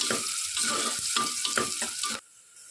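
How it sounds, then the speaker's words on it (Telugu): Two medium onions fry in a pan with a dense, close sizzle and bursts of stirring, then the sound drops away abruptly near the end. "ఆనియన్స్ కొద్దిగా ఫ్రై అయ్యేంత వరకు బాగా వేయించుకోండి."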